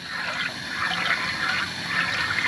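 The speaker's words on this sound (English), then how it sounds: "Just running a hose and filling Big Daddy up" Water from a garden hose running steadily at a campground spigot, filling a camper's fresh-water tank while dispersed camping in an East Texas national forest; a continuous, fairly loud hiss and trickle with no talk.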